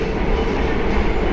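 Steady, loud rumble of the Purwojaya executive train running on rails, heard from inside the carriage as a continuous dense roar with no talk.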